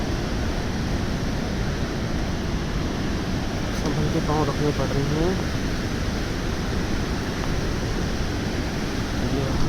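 Broadband river rush from below a slippery Himalayan mountain trek path on the Madhyamaheshwar route, steady and loud throughout, with a person talking over it.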